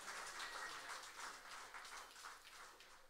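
Concert audience applauding a musician and his backing band, a steady wash of clapping heard from a distance and fairly faint throughout.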